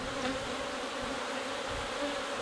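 Honeybees buzzing steadily around an open hive as frames of nectar, pollen and brood are lifted out during a colony split, a dense continuous drone close by with no speech.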